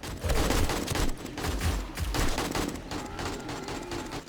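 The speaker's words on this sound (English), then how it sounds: "I didn't realize shooting an AK tore up your stamina" Sustained bursts of AK rifle gunfire in the video game 7 Days to Die, rapid and loud, coming in several clustered volleys with short gaps and no talk.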